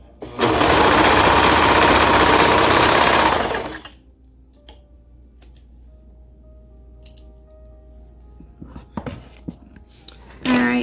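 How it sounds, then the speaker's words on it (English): A serger stitches together four folded raw edges of legging fabric, running loud and fast in one continuous whirring burst for about three seconds, then stopping. Quiet handling clicks and small rustles follow. "I'm going to put this folded edge into my serger like this and serge them all together."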